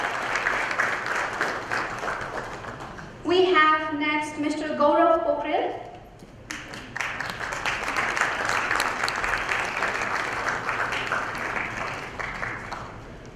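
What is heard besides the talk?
audience applause for finalists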